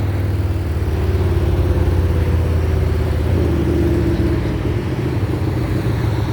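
An Indian Scout Bobber motorcycle engine runs hard on a dyno, a loud, close, continuous low rumble and drone that holds steady with slight shifts in pitch and no voices.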